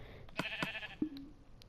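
Video game sheep bleating in a short, quiet burst: a couple of sharp clicks followed by a single thin, synthetic-sounding bleat, with no talking.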